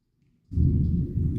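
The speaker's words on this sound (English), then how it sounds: "Hear the thunder and the stuff in the back." Low, rumbling thunder rolls in the background during a thunderstorm, a deep sustained roll that starts suddenly and continues, fairly close, with no talking.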